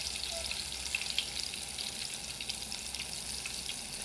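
Sliced bananas fry in hot oil in a pan, giving a steady, close sizzle and crackle with small pops, continuous and unbroken, with no voices over it.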